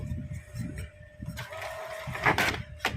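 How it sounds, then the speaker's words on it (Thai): An inkjet printer pulling paper during a test print makes mechanical whirring and feed clatter with a steady faint tone underneath, rising into louder rattling bursts toward the end. "เครื่องพิมพ์ดึงกระดาษปกตินะครับ"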